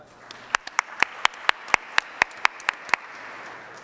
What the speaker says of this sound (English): big round of applause from the demo pit for Carbon